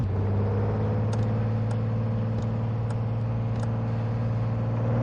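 Truck engine in Truck & Logistics Simulator hauling an attached trailer. It holds a low, steady drone with a strong humming tone, and faint clicks tick over it at intervals.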